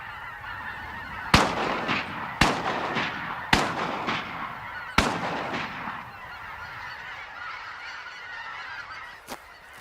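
Geese honking over the Yukon delta in the Arctic, several sharp loud calls spaced a second or so apart, then quieter, more distant honks trailing off over an open outdoor hush.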